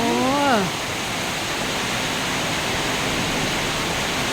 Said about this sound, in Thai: ฝนตกแล้วฝนตกแล้ว